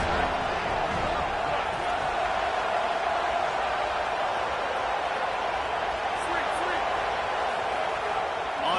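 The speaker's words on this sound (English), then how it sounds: "This crowd trying to make life miserable for this offense." A steady roar from a football stadium crowd in a video game fills the air without pause, loud and dense, with a commentator's voice talking over it.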